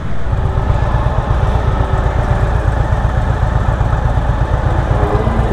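Suzuki GSX-8S motorcycle engine idling steadily up close, a loud, even low rumble with rapid pulsing that holds throughout and has no speech over it.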